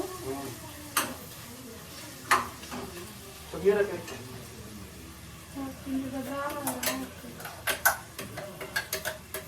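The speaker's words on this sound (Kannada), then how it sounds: "ಮಸಾಲೆ ಹಾಕ್ತಿದ್ದೀನಿ ಇವಾಗ. ಉಳ್ಳಾಗಡ್ಡಿ ಟಮಾಟಿ ಫ್ರೈ ಅದು" Onion and tomato frying with masala in a pan, giving a low sizzle with bursts of stirring, scraping and ladle clicks against the pan, close and fairly quiet, with no talk over it.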